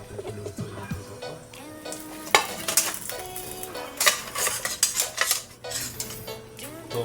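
Tofu cooking in a pan, with a metal utensil clinking and scraping against the pan in irregular bursts over a steady low sizzle, loud and close, no voices.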